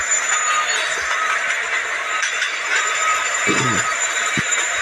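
A train rolls along in the Scarfall video game, a steady loud rumble and hiss with a faint squeal, under low background noise.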